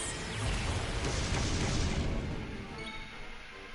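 A Kaboom spell goes off in Dragon Quest XI, a loud, sustained rumbling blast lasting about two seconds that then fades into quieter game sound.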